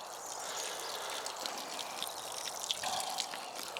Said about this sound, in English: So I'm just going to put a bit of water on there.